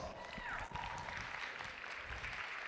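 A crowd at a youth fair lamb show claps steadily for the intermediate showmanship entrants, a broad, continuous round of applause filling the whole stretch with no break.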